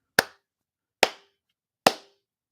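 Three sharp, isolated hand claps, evenly spaced about eight-tenths of a second apart, each a crisp close transient with a short decay into silence, made as an audio sync test during a test stream.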